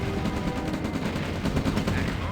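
Gunfire crackles in the Command & Conquer: Red Alert video game, a steady stream of rapid small-arms shots layered over a dense game soundscape at moderate volume.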